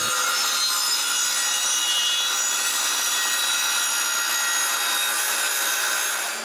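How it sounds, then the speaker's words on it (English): Wood boards being sawn to length for a cottage woodshed, a loud continuous rasping saw sound that runs steadily throughout with no pauses and no voices. "But I need to cut them to length."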